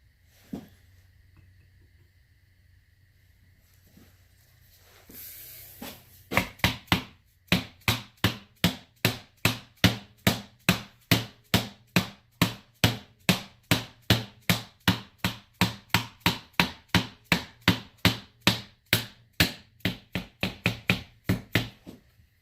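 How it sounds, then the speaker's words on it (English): A steady series of sharp, evenly spaced taps from a plastic hammer striking a metal bearing race in a John Deere pump, about two per second, close and unbroken for over fifteen seconds. "I love that hammer. It's plastic."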